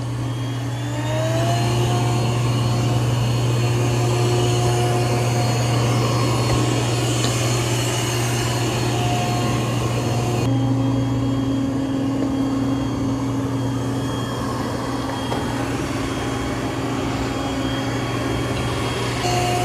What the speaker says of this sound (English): so I've got it vacuuming on maximum suction